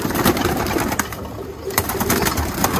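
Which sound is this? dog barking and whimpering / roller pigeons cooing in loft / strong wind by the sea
roller pigeons cooing in loft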